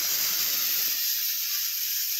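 A close, continuous hissing from a homemade rocket fuel mixture reacting, steady and loud throughout with a slight easing partway, no talking.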